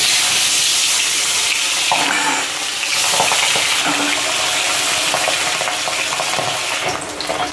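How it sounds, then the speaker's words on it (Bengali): Pabda fish frying in hot oil in a wok, seasoned with salt and turmeric, makes a dense, loud, continuous sizzle with spattering crackles throughout and no talking. "তো কড়াইয়ে আগে থেকে তেল দিয়েছি, তেল গরম হয়ে গেছে। এবার মাছটা দিয়ে দেব।"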